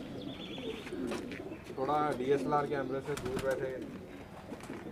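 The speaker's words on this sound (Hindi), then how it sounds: "ये एक्स्ट्रा ऑर्डिनरी कबूतर है दोस्तों" A fancy pet pigeon coos in a low, throaty rolling pattern, repeated several times close by, while someone talks over and between the calls.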